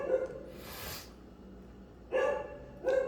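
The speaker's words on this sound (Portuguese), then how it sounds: "Temos um cachorro aqui na vizinhança que sempre participa ativamente de alguns dos meus vídeos, né? Vocês devem estar ouvindo aí." A neighborhood dog barks in short bursts, one near the start and two more toward the end, moderately loud against a quiet room.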